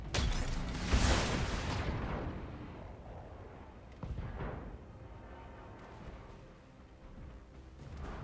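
Mech weapons fire in the Battletech video game, a heavy booming blast at the start that rumbles and fades, followed by further thuds and explosions over a dense battle din.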